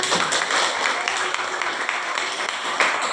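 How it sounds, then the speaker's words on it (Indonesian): A class of students claps together during an art lesson in Buleleng, a dense burst of close hand applause lasting a few seconds with a faint voice mixed in. "Oke, tepuk tangan."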